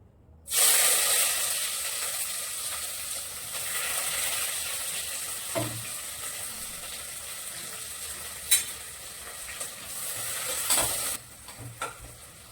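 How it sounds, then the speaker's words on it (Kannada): Sliced onions sizzle steadily in hot oil for a chicken biryani, a continuous close frying hiss with occasional louder crackles and a soft clink or two of a utensil. "ಎಣ್ಣೆ ಕಾಯ್ತಾ ಐತೆ ಈರುಳ್ಳಿನ ಫ್ರೈ ಮಾಡ್ಕೊಂಡ್ಬಿಡ್ತೀನಿ"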